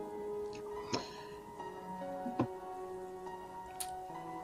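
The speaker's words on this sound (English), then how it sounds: "It started playing like quiet piano rain music." Quiet piano music with soft rain sounds plays as background during a tabletop role-playing game session, a steady, hushed wash of sustained tones with occasional light ticks and drops.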